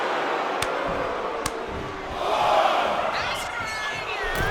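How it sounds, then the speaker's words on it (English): A crowd cheers in the WWE 2K25 wrestling video game, a steady arena roar that swells to a louder peak midway before settling back. "Steiner drawing a big reaction from the crowd."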